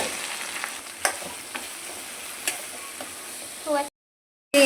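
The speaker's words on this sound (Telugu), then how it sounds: "ఉల్లిగడ్డ వేసుకో అల్లం ఎల్లిగడ్డ పేస్ట్ పసుపు బెండకాయ వేసుకోవాలి" Okra with onion, ginger-garlic paste and turmeric fries in hot oil and tomato paste, a loud, steady sizzle with a few sharp stirring clacks before it cuts out briefly at the end.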